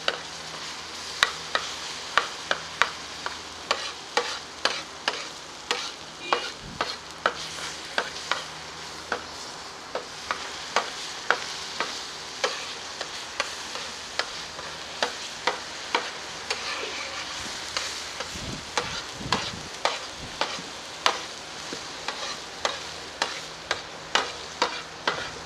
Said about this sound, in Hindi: थोड़ा सा भून लेंगे।